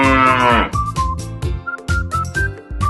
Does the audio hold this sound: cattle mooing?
yes